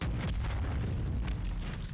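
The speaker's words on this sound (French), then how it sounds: "3, 2, 1, explosion!" A large explosion in the Call of Duty: Modern Warfare 2 campaign booms loud and close, a dense rumbling blast that rolls on for a couple of seconds without talk.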